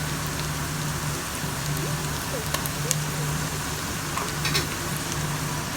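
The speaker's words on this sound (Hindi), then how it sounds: "इसको हम कुछ देर अच्छे से भून लेंगे।" Ginger garlic paste sizzles steadily as it fries with golden-brown onions for a chickpea pulao, a constant close crackle with a few louder pops, while a person talks over it.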